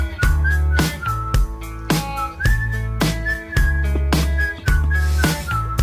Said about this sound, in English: the whistling kills me. It's so good.